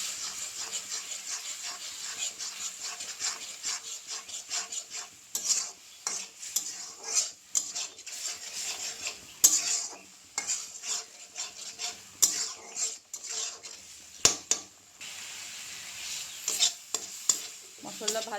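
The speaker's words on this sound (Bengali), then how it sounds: "জিরে গুঁড়ো, ধনে গুঁড়ো দিয়ে ভালো করে মশলাটা ভাজি করে নেব।" Ground cumin and coriander spice paste frying in a pan, with repeated scraping and tapping of a spoon stirring against the metal over a faint background sizzle, fairly quiet and uneven, no speech.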